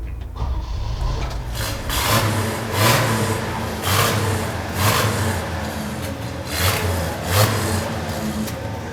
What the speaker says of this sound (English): I want to start it up for you because it has that great familiar 6-cylinder sound